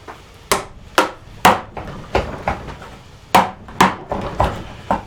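Chisel chopping and prying a mortise in wood while making a joint stool: sharp, irregular mallet-driven strikes and woody knocks, close and distinct, separated by short pauses, with no talking.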